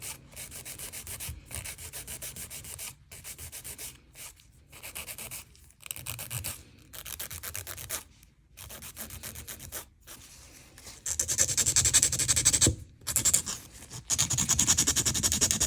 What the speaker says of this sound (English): Now I'm gonna take away the shine with my sanding band.